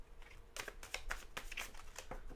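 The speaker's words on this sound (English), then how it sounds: "Let's do a good shuffle." Tarot cards being shuffled by hand, a quiet run of crisp riffling flutters and soft slaps in quick bursts, close and alone.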